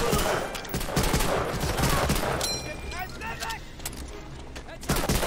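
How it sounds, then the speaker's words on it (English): A grenade goes off amid heavy World War II gunfire in Medal of Honor: Allied Assault, with dense, continuous bursts and booms filling the clip and a voice talking over the battle. "Oh, that is a grenade."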